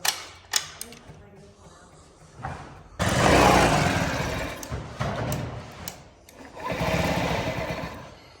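A Honda Ruckus scooter's small engine is cranked and catches, running in loud buzzing bursts that rise and fall over several seconds, close by, with brief clicks and pauses between runs.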